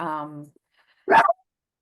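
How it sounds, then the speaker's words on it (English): A dog gives one short, sharp bark close to the microphone, separated by a moment of silence from a brief voiced sound just before it. "sorry, I have a dog and I love dogs."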